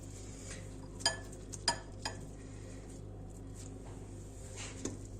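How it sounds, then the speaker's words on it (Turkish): A spoon scrapes and clinks against a pan while eggplants are stirred in a home kitchen for a Mardin-style eggplant and minced meat dish, with a few sharp clinks over a quiet steady background and no talk. "Şimdi patlıcanlarımı bir karıştırayım."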